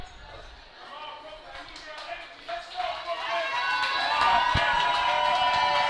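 A crowd at a live wrestling event cheers and shouts, building louder toward the end, with a commentator talking over it and scattered thuds and footfalls from the ring.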